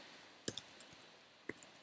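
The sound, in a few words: typing on a computer keyboard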